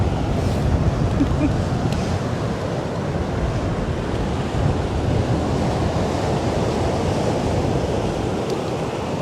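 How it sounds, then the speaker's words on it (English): Ocean surf rolls onto the beach at Topsail Hill Preserve State Park, Florida, a continuous close wash of waves mixed with wind buffeting the microphone. "Once again, I'm taking Kim out for a walk on the beach."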